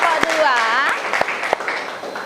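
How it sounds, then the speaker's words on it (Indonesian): Applause from a high school class in Bali for a student group that has just finished its presentation: a steady patter of clapping, with a few sharper individual claps and voices over it. "tepuk tangan dulu untuk kelompok"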